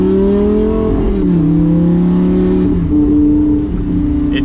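A 2014 Lamborghini Gallardo LP550-2 engine revving in normal mode with manual shifting, a loud close droning growl that climbs, drops and climbs again between gears without a break.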